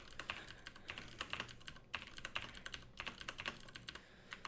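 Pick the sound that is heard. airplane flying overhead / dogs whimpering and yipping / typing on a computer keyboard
typing on a computer keyboard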